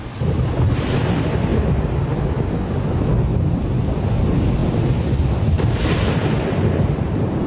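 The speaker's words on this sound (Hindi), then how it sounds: "हम मार्स पर ही पले बड़े हैं, लेकिन कभी ऐसा तूफान नहीं देखा।" Fierce storm wind on Mars in a dubbed film scene, a continuous loud roar with heavy low rumble and gusty swells and no speech.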